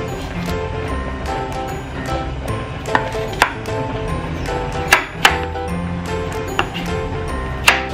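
Knife chopping garlic thinly on a cutting board, sharp irregular taps scattered over a steady background of music or kitchen noise, close and moderately loud.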